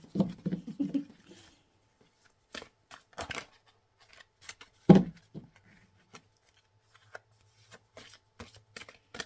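A mixed deck of tarot cards, drawn from several different decks, is shuffled by hand, with a burst of riffling followed by scattered soft taps and card slides in a quiet room.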